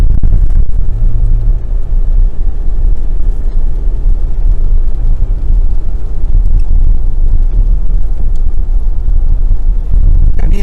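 A car cruising along a smooth coastal road in Chonburi, Thailand, with a steady loud low rumble of engine and tire noise that stays constant the whole time.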